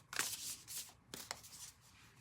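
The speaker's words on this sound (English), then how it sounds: "This deck shuffles really well. No stickiness at all." Quiet riffling bursts of a deck of tarot cards being shuffled, two or three quick flurries close up with soft pauses between.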